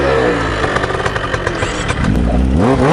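A motorcycle engine revs and accelerates close by on a street, its loud rising and falling drone with some clatter running through the whole stretch, no voices.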